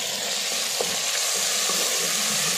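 Tomatoes hit a pan of frying ginger-garlic masala for a Pakistani chicken dish, producing a steady, close sizzle and hiss with faint stirring scrapes throughout.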